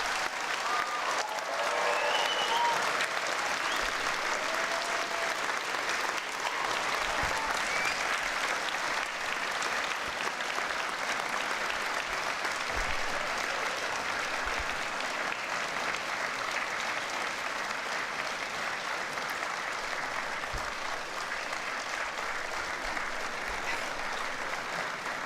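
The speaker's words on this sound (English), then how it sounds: "could we have a big round of applause and a cheer?" Applause and cheering ring out at a university graduation ceremony for arts, media and creative technology, a large crowd clapping loudly and steadily for about twenty-five seconds with whoops rising in the first moments.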